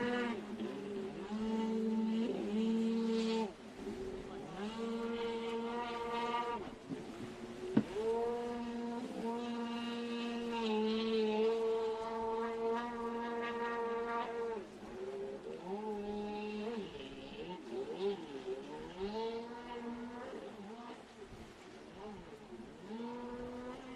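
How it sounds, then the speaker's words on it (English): Jet sprint race boats running naturally aspirated engines in a beginner class lap a course at Glenmaggie, a steady tonal engine drone with shifting pitch sweeps as they pass, continuous and moderately loud, with commentary talk over it. "It's kind of deceptive how quiet these boats sound"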